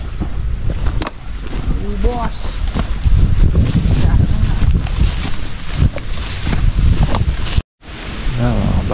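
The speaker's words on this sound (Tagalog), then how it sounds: "makulimlim at mahangin" Strong wind gusts roar steadily across an open farm field under an overcast sky, with heavy buffeting against the microphone and a voice speaking through it.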